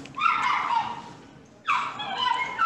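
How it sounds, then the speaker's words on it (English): A dog barks and whines outdoors in two short bursts of high, yelping sounds, moderately loud with a quiet gap between them. "Can y'all hear the dog that's barking outside?"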